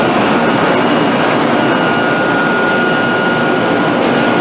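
A dehumidifier and drying fans run in a water-damaged house, making a loud, steady, close broadband roar that never changes through the whole stretch.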